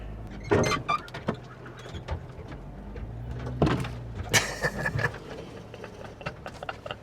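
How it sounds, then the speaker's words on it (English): Branches scrape and screech along the body of a truck crawling down a narrow off-road trail, with several sharp scratching bursts over a steady low engine rumble inside the cab. "I don't know how well you can hear my truck getting scratched up"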